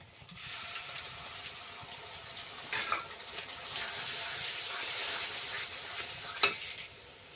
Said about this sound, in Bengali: পেঁয়াজটা লাল লাল করে ভাজা হয়ে গেছে ওর মধ্যে দিয়ে দিচ্ছি একসঙ্গে আদা রসুন জিরে বাটা